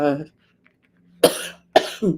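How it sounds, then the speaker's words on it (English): Two harsh, close coughs in quick succession, set between bits of speech and a brief quiet pause. "really apologize about this cough."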